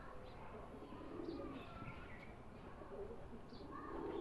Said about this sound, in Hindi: प्योर हालत में सूरी कबूतर है